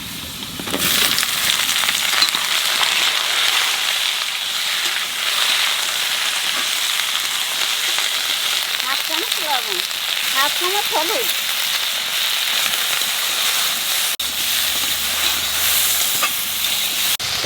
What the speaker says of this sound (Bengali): আলুটা একটু ভাজে নিছি